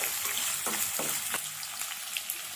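Chopped onion, cut one way, frying in oil in a pan for chitranna made with heralekai citron, giving a steady close hiss with a few soft stirring knocks early on and no voices.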